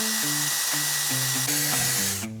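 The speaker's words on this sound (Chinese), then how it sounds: "来这儿打个眼儿，做个把手，" A power drill bores a hole in a handmade metal smokeless gasifier stove, a loud whining tone that steps up and down in pitch as the bit bites, then cuts off near the end.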